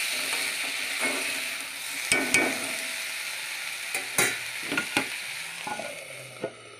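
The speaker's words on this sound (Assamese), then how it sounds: "আলুখিনি দিয়াৰ পাছত কম জুইত অলপ ভাজি থাকিব লাগিব।" Potatoes sizzle steadily in a pan over low heat while a utensil scrapes and clanks against it in scattered knocks, close and fairly quiet.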